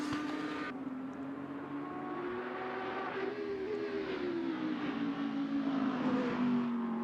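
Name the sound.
race cars at Spa-Francorchamps in Assetto Corsa video game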